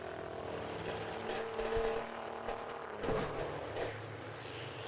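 Big rig trucks race at South Sound Speedway, their engines a distant, fairly quiet roar that swells and fades as they battle through the corners.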